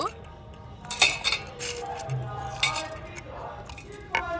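Gold and silver jewellery is placed piece by piece into a container of clean water, making scattered light metallic clinks and soft knocks at close range over a quiet background.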